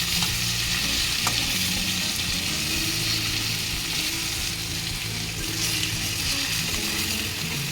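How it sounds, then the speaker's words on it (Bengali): Giant freshwater prawns (golda chingri) frying in hot oil in a home kitchen, a steady close dense sizzle running unbroken throughout with faint stirring and clinks, no talking. "এইভাবে আমি মাছটা ভেজে নেব"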